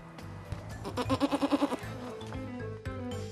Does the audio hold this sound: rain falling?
no